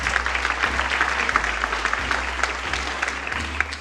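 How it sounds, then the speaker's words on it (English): An audience at a Portland State University summit applauds the speaker Maggie De Pree, a continuous crackle of many clapping hands in a hall, with a low steady hum beneath. "Please give her a round of applause"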